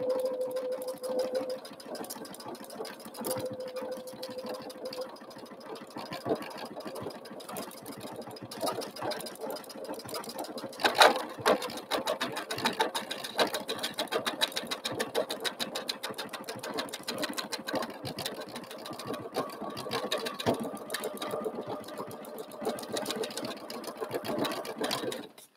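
A sewing machine stitches metallic thread on a quilt butterfly, producing a steady, moderately quiet mechanical hum and rapid ticking that runs unbroken for about twenty-five seconds with one brief louder knock midway.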